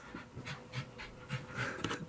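A dog pants in quick, rhythmic breaths, each huff close and fairly soft, repeating steadily for a couple of seconds with no talking.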